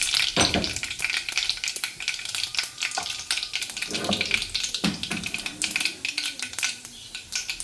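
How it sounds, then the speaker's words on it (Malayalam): Mustard seeds and half a teaspoon of cumin crackle and pop in hot oil for a methi dal, a dense run of sharp snaps over a steady sizzle, close and fairly loud throughout. "കണ്ടോ, കടുക് നല്ലോണം പൊട്ടും."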